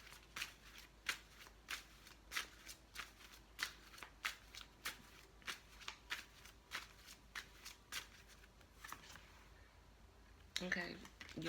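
Tarot cards shuffled by hand in a steady run of crisp riffling flicks, about two per second, close and fairly quiet, ending in a brief rustle of the deck settling.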